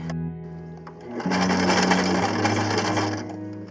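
Sewing machine stitching a sandal strap, a brief hum at first, then a steady, close mechanical whir of fast stitching that runs for a couple of seconds before slowing.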